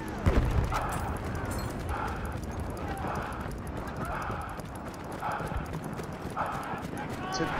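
Horse galloping in Battlefield 1 multiplayer, a steady rapid clip-clop of hooves passing close amid distant gunfire and battle noise, with a player talking over it.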